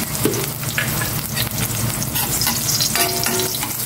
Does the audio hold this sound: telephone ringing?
no